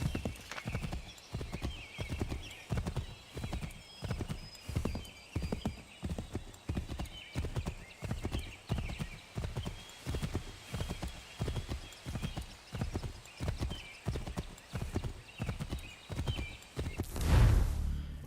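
A horse in Assassin's Creed 3 clip-clops at a steady walking rhythm, its hooves close and clear for a long stretch, with a brief whinny-like burst near the end.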